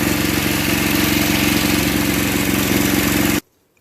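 A Tecumseh 5 HP engine on a Craftsman snow blower runs at a steady, loud, throbbing idle close by, then cuts off abruptly into silence.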